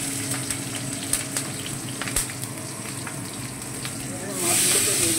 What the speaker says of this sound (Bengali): এবার আমি কাঁচা লঙ্কা দিয়ে দিলাম।